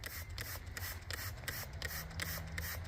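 Plastic Windex spray bottle with a large nozzle squirting repeatedly, a quick series of close, hissy sprays with a faint hum running underneath.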